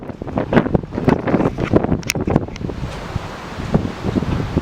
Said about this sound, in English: Oh, it's super windy here, guys.